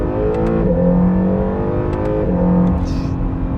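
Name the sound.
2019 Acura NSX supercar driving off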